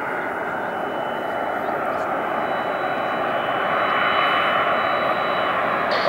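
A fixed-wing aircraft comes in to land at RAF Brize Norton, its engines a steady, loud, broad roar that swells slightly as it nears, with a voice speaking over it.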